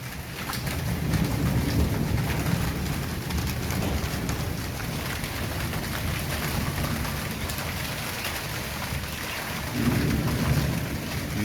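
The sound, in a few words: heavy rain in Rawalpindi, Pakistan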